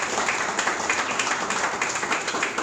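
An audience at a graduation ceremony applauding with steady, dense clapping, a continuous patter of many hands heard from a moderate distance without speech on top.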